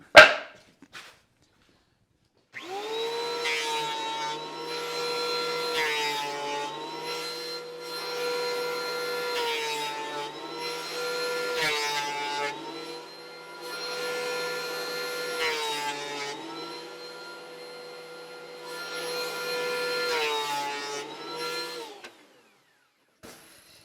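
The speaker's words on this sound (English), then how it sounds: "I'm going to run these through the planer to smooth up this edge on some of them." A planer whines steadily as wooden boards are fed through, in three long passes of droning, tonal cutting sound, each about five seconds, with short quieter gaps between.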